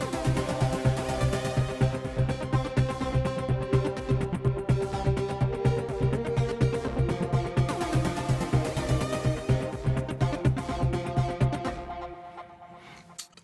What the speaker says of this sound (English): we created a melodic techno loop